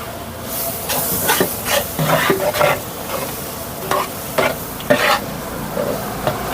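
Coriander powder stirred into a masala frying for a large hotel-style batch of chicken kurma, with a steady sizzle and repeated scraping stirs at an uneven rhythm, close and fairly loud.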